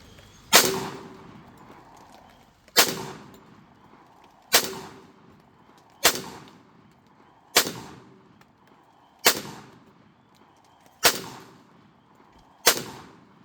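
Eight loud gunshots from a Taurus 1911 pistol fired outdoors, each a sharp crack with a short decaying tail, spaced roughly every one and a half seconds against quiet background.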